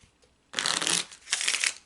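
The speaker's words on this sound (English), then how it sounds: "We're going to shuffle the cards." A deck of Kipper fortune-telling cards being shuffled in two quick riffling bursts, crisp and close, with a short pause between them and near silence before.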